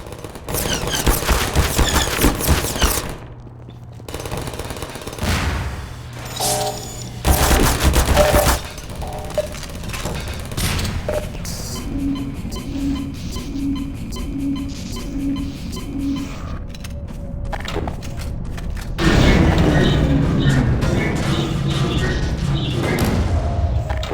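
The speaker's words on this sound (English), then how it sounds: "Fire, Gordon." Bursts of automatic gunfire and heavy thuds from a Half-Life 2 firefight, loud and dense at first, then a quieter stretch with a rhythmic mechanical pulsing, before another loud barrage erupts near the end.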